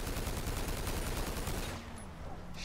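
Rapid automatic gunfire in a GTA roleplay game hammers out in a loud, continuous stream of shots, then cuts off abruptly, leaving a faint hum.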